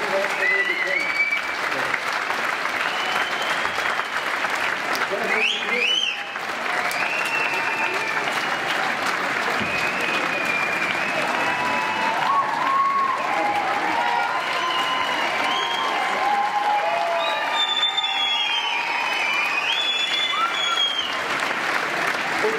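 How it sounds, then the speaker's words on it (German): Sustained audience applause for the trainers at a pole dance show night charity event, a dense steady wash of clapping lasting throughout with some voices and cheers mixed in. "Bitte einen Applaus für die Trainerinnen!"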